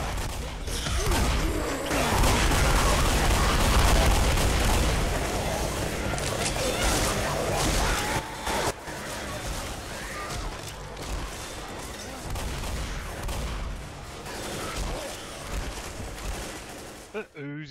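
Automatic shotgun fire in the zombie shooter game Left 4 Dead, a dense, loud stretch of repeated blasts and mechanical clatter that runs nearly continuously with some crashing impacts, then cuts off abruptly near the end.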